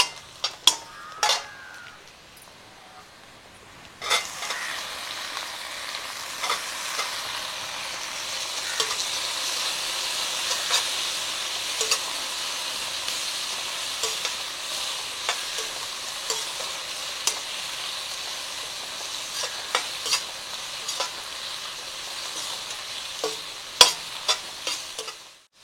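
Tomatoes go into a pan of browned onions for a mushroom dish, landing with a couple of clatters before a long, even sizzle of frying, broken by scattered spoon scrapes and taps against the pan.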